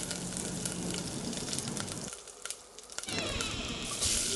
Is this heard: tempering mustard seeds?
yes